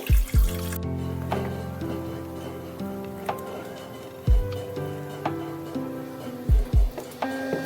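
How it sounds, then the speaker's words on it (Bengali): Water poured from a tap into a bowl while preparing bael fruit sherbet, a steady close splashing flow with a few sharp knocks of the bowl and fruit shell, no talking. "একটা পাত্রে একটু জল নিয়ে নিচ্ছি।"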